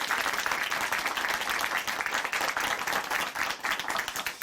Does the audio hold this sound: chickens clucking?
no